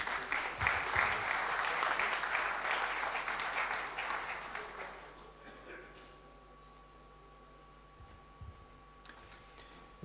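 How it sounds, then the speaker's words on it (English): Loud audience applause at a national convention of chartered accountants in Ahmedabad, dense clapping for about five seconds that then fades, leaving a quiet hall with a faint steady hum. "I would request a big round of applause"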